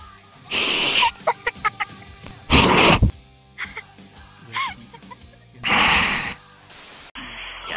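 Chicken clucking inside the VRChat video game comes in several short, loud bursts and quick clucks, with sharp pauses between them and a sudden cut near the end.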